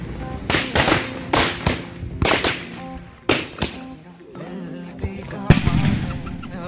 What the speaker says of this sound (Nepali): एउटा एउटा पड्का सुन न